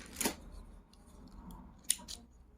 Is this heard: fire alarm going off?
no